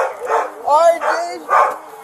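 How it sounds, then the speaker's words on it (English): Guard dogs bark in several close, loud bursts, their yelps running in quick succession with no words over them at a police detention scene. "Got some guard dogs in there."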